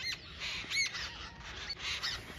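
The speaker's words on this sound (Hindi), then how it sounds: "पक्षी कुल की आवाज़ आए है कितना सुकून मिले" Birds call in a village forest in the morning, with repeated squawks and chirps close by and some distant calls behind them, heard on their own with no talking.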